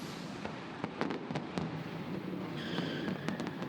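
Fireworks pop and crackle over the Dubai Autodrome during a 24-hour endurance race, a string of distant sharp bangs ringing above a steady roar of crowd and track noise.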